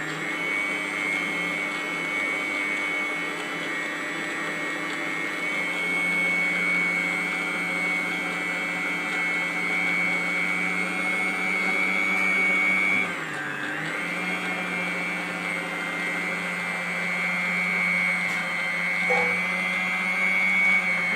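A 1000-watt stand mixer whips cream for a cake at high speed, giving a steady, loud, close motor whine that holds for the whole stretch with one brief dip, and no talking.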